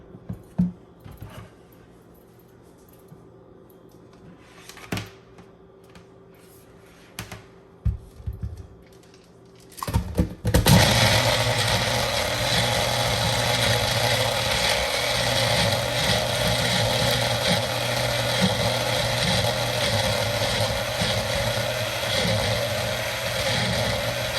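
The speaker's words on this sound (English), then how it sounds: "Now I'm gonna go ahead and add my bottom part of the blender, right?" A countertop blender whirs steadily while blending a jerk lamb marinade, starting abruptly after a few faint clicks and handling sounds, then holding a loud, continuous, dense motor roar to the end with no talking.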